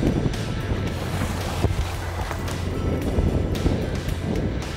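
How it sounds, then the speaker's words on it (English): Gusty wind buffets the microphone outdoors on Lake Erie near the Bass Islands during walleye trolling, low rumbling blasts over water sounds, steady and fairly loud throughout. "It's a little windy out here."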